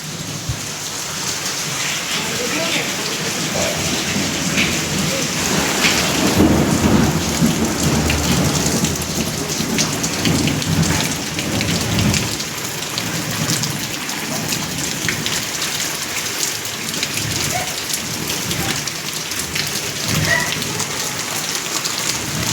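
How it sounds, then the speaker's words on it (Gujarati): Steady heavy rain pours down in Gir Somnath district during an unseasonal summer storm, with thunder rumbling low and swelling around the middle; the downpour stays loud and continuous throughout. "કડાકાને વીજળી થાય છે"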